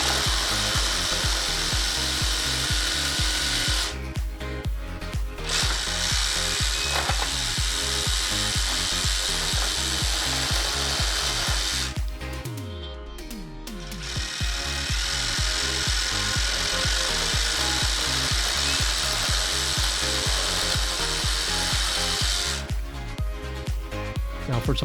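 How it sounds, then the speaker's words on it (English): A Ryobi one-handed reciprocating saw cuts PVC pipe in a garage, a loud, close, continuous buzzing rasp with one brief drop in the middle before cutting resumes. "Now let's jump in the garage and cut some other material. First, how about some PVC pipe?"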